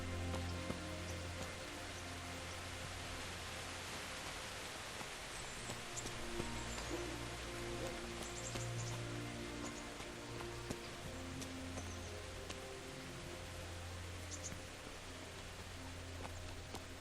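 Steady rain in the medieval open-world game Kingdom Come: Deliverance, a continuous even hiss of falling drops layered over low ambient hum, holding level throughout with no talk.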